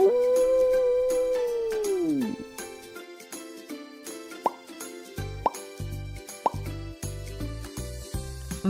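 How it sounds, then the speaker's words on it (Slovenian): A grey wolf gives one long, sustained howl that slides downward at its end, followed by light plinking music and soft plopping sounds. "Volk tuli, zelo dobro."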